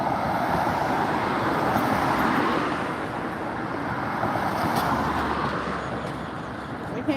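A car rolls along a city street near a crosswalk, a broad engine and tire roar swelling then easing off over several seconds amid steady traffic noise.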